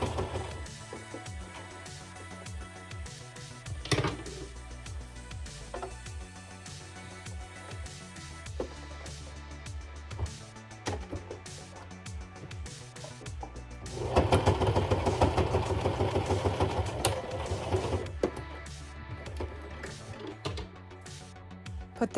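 A sewing machine stitching over bulky drawstring loops on a backpack, running in short bursts with pauses, then a louder steady run near the middle before settling into quieter intermittent stitching.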